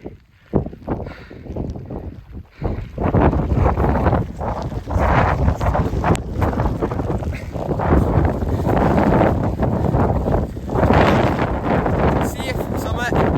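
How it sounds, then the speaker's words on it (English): Strong wind roars and buffets the microphone almost continuously on the snowy summit of Slieve Lamagan, with brief lulls and heavy gusts, loud and close. "it is very windy just"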